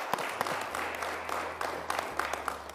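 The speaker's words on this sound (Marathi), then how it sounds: "आम्हाला टाळ्या वाजून तुमचं अभिनंदन." Audience applause at a televised business show, a steady bed of clapping with scattered sharper claps, moderately distant, over a low electronic hum.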